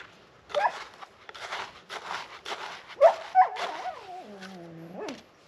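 Dog playing with a ball in the background indoors, giving a series of whimpers, yips and whiny vocal squeals with short breaks between them, moderately close and without talk.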